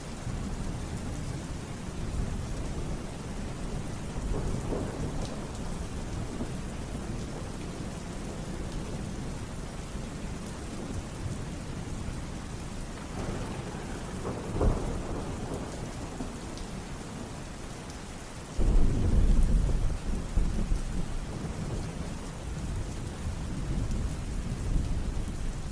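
Steady rain falling through a thunderstorm, even and constant, with distant rumbles of thunder and a louder, closer roll near the end; no voices.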